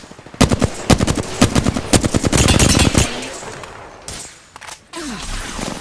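Rapid video-game gunfire crackles in a dense burst of sharp shots for about three seconds, then thins into scattered reports and softer whooshes with a low hum beneath.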